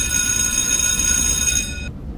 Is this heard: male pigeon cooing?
no